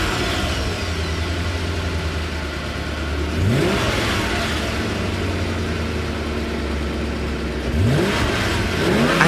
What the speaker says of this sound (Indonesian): mencoba menyalakan mesin lagi